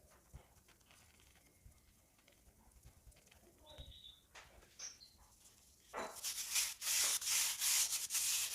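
Hands rub a corn flour mix over a rolled dough disc, giving soft, quiet brushing and scuffing that grows into a louder, sustained rasping rub toward the end.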